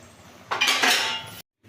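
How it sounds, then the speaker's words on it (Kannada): A plate set down as a lid over a cooking pan, a close metallic clink and rattling scrape lasting under a second, then abrupt silence. "ಈಗ ಇದ್ರ ಮೇಲೆ ಒಂದು ಪ್ಲೇಟ್ ಮುಚ್ಚಿಬಿಟ್ಟು ಬಿಟ್ಬಿಡ್ತೀನಿ ಬೇಯಲಿ"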